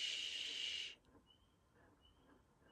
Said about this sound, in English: You can hear the peepers outside.